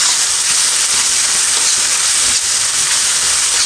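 Spice paste for a raw-mango rui fish curry sizzles in a hot pan, a loud, continuous, bright hiss with no pauses or speech.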